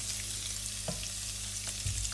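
Chicken tikka masala ingredients sizzle in a hot pan, a dense, steady crackling hiss with a low hum beneath it and a few soft knocks of stirring.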